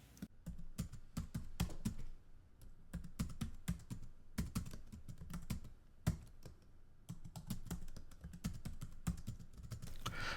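Steady typing of code into a Python interpreter on a computer keyboard. The keystrokes are close and crisp, arriving in quick irregular bursts with brief pauses, and nothing else is heard.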